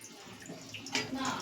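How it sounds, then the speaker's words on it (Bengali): Plain water pouring into a pan of sour Morola fish curry on a gas stove, a short splashing gush that swells near the end, close by, with no talk. "এবারে এর মধ্যে আমরা দিয়ে দেবো আর একটু এমনি নর্মাল জল"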